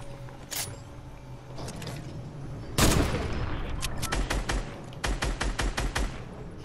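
Bursts of video-game gunfire in Fortnite, a scattered volley followed by a loud burst and then a fast rattling string of shots, close and fairly loud over steady game background noise.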